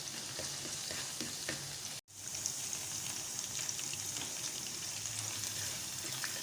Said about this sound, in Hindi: तो देखिए लहसुन अच्छे से फ्राई हो गया